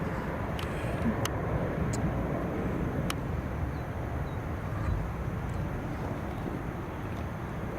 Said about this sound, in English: The airplanes themselves are the Sound of Music here.